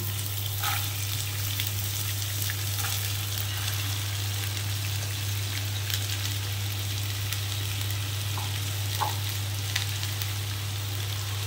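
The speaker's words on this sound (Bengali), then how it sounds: "আমি এবার এই ছোট করে কাটা গাজরটা ঘিয়ের মধ্যে দিয়ে দিচ্ছি।" Chopped carrots fry in hot ghee in a kadai, giving a steady, even sizzle that runs unbroken for the whole stretch over a low hum, with no one speaking.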